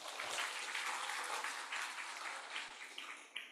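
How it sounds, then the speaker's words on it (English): Applause from a conference audience at the ISLALE 6 event, honouring a keynote professor and moderator. Dense, steady clapping from many hands, fairly distant and soft, easing off slightly near the end. "And let's give Professor Gultom and also our moderator round big applause."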